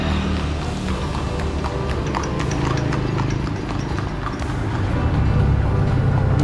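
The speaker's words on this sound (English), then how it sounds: "Here they are, horses." Several horses trot steadily along a road in Lampang, northern Thailand, their hooves clip-clopping in a quick, continuous rhythm over a constant outdoor rumble, close and fairly loud.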